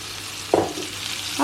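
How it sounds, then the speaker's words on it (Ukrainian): Fish fries in a pan with a low steady sizzle, broken by a brief clatter of stirring or turning and a second one at the end. "Зараз рибку на ній смажу."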